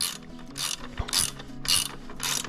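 A wrench ratchets as a motorcycle's oil drain bolt is tightened after an oil change, giving about five even bursts of rapid clicking in a steady rhythm, close and clear.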